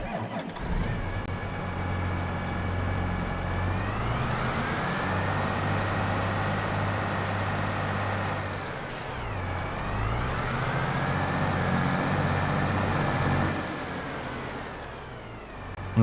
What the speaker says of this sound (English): pretty standard John Deere 9R sounds there